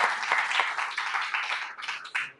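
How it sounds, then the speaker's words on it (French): Spectators at a school quiz contest quarter-final clapping to welcome the second team, a short, close burst of applause with distinct individual claps that thins out quickly. "sous vos applaudissements s'il vous plaît"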